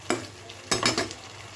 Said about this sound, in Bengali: সামান্য জল অ্যাড করে আমি এই মশলাটা আরও 2 মিনিট কষিয়ে নেব।